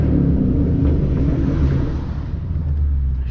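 Ford Mustang GT V8 with a six-speed manual gearbox and short-throw shifter, a steady deep engine rumble heard from inside while driving, loud and continuous with some wind noise.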